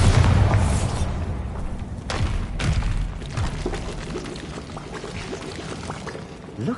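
A Bombarda explosion spell bursts in the Hogwarts Legacy video game, a heavy booming blast with a low rumble that tails off into crackling debris and scattered thuds, loud and close with no talk.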